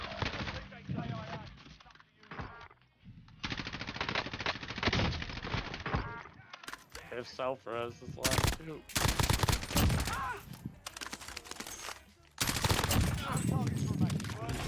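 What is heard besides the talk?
gunfire from snipers in Warzone video game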